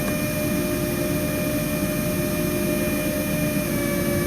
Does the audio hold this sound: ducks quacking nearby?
no